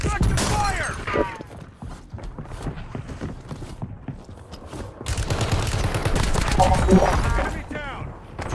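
Rapid gunfire from a Call of Duty Warzone firefight: dense, loud bursts of shots crackling close by throughout, with some faint vocal sounds mixed in.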